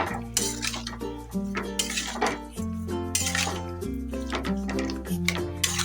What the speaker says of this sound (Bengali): এবার এই পর্যায়ে এতে আমরা নুন আর চিনিটা দিয়ে দেব। ভালো করে মিশিয়ে নেব।